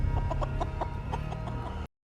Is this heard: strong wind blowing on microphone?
no